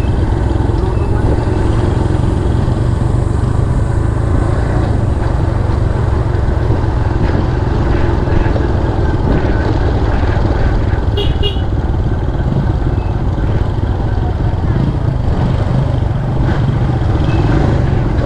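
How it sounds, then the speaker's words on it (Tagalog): An engine runs continuously at close range, a loud, steady rough drone like a motorcycle or small motor with no pauses, with faint talk in the background. "Basta umaandar lang ang makina"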